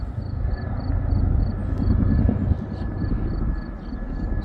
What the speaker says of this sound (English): It's always neat watching the helicopters fly over from the army base.